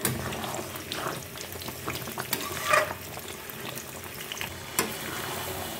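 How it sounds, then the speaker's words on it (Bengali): Mutton fries in oil and spices while being stirred, a close steady sizzle broken by occasional scraping clinks of the utensil against the pan, with no talk. "যতক্ষণ না জল শুকাবে আমি কষাবো।"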